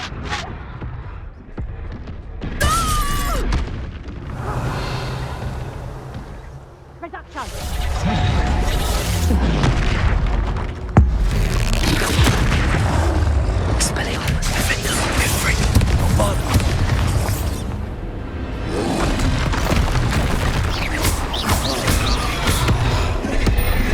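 Confringo fire spell blasts in the Hogwarts Legacy video game, loud bursting booms and crashes over a busy, dense game soundscape with continuous effects throughout.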